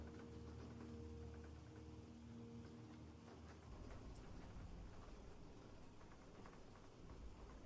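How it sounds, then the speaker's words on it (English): Heavy rain pours in a dense, continuous hiss, steady and fairly loud, with a low hum underneath for the first few seconds and nobody speaking. "The rain bearing down heavy."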